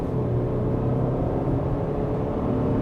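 A 2025 Subaru Outback Touring XT pulls at half throttle, its turbocharged engine giving a steady, dense low rumble heard from inside the cabin, constant and unbroken throughout.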